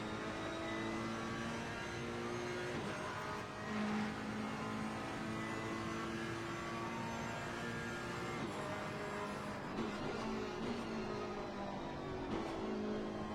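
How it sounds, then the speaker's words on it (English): A Ferrari race car engine drones steadily through an onboard lap, holding sustained harmonic tones that shift with gear changes and brief throttle lifts, loud and continuous with no talk. "Let's make one on board lap with Chorus."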